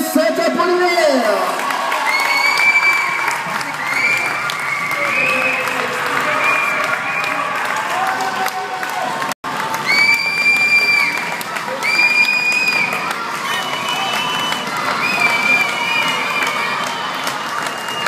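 A stadium crowd at an amateur football match between US Arc-sur-Tille and SC Saint-Apollinaire applauds and cheers as the two teams are welcomed, sustained clapping with whistles and shouts, briefly cut off halfway before resuming.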